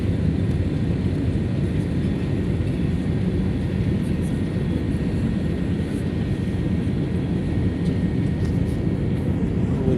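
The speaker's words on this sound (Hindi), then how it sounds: "अल्हम्दुलिल्लाह मदीना एयरपोर्ट पर लैंडिंग होने वाली है।" Steady broadband roar of a fixed-wing airliner's engines heard from inside the cabin during approach and landing at Madinah airport, continuous and fairly loud with no talk.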